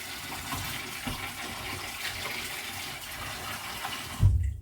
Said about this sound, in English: Now, cold water over the fish. We're going to rinse it off